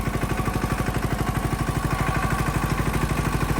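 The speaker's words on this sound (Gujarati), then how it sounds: "મોટું ટ્રેક્ટર આગળ હાલી ગયું તો પછી નાનું હાલવા લાગ્યું એના પાછળ।" A small tractor follows a bigger one across a farm field, its engine thumping in an even, rapid beat with a faint clatter, steady and close.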